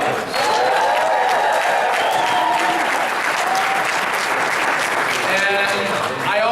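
Sustained audience applause for Congresswoman Maxine Waters at an African American Caucus meeting, loud and dense throughout, with faint voices and a few shouts mixed into the clapping crowd.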